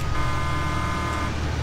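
A sustained vehicle horn honk from a farm vehicle in Farming Simulator 19, steady and continuous for over a second with engine rumble underneath and no talk.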